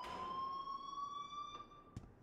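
Alarm sounding in Life is Strange, a steady electronic tone held throughout at moderate level, with a couple of faint clicks near the end.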